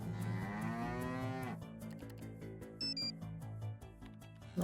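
A cow mooing notification sound from a phone alert menu, one long drawn-out moo that then gives way to a quieter musical background, with no talking.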